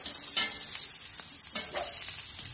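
Onions fry in a pan for a cheeseburger, a continuous crackling sizzle with a few louder stirring scrapes scattered through, no voices.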